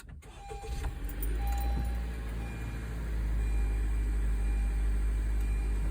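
A 2020 Honda CR-V engine catches after a push-button start, with a brief burst at the start settling into a steady, close, low idle rumble that holds for several seconds.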